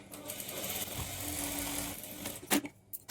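A sewing machine runs steadily through blouse fabric, stitching along the edge, a continuous close mechanical whirr that ends in a couple of sharp clicks and thumps.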